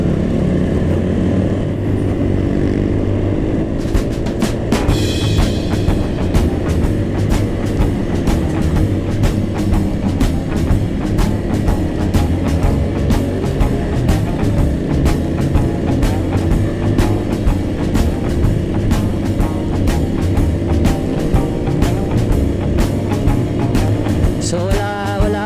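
A stock Easyride 150N scooter in its break-in period climbs uphill in Rizal, its engine a loud, steady, close drone with a rapid rhythmic ticking running through the whole stretch and no voices.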